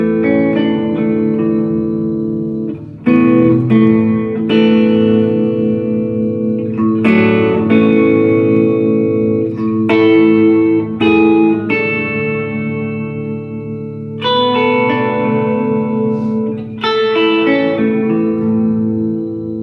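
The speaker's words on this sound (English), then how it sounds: "Now, if I put the reverb on, you're definitely going to hear this." Electric guitar played through a reverb pedal with a slapback delay, strummed chords ringing out loud and sustained with a long washy tail, changing every couple of seconds with brief gaps between strums.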